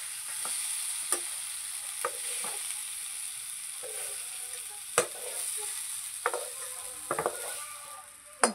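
Mixture for a village-style egg curry stirred and roasted in a hot kadhai: a steady sizzle runs throughout, broken by scattered scrapes and knocks of the spoon against the pan, with no talking.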